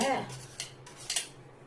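A knife cutting watermelon into small pieces, with a few faint, crisp taps and slices of the blade against a board, spaced irregularly over a quiet background.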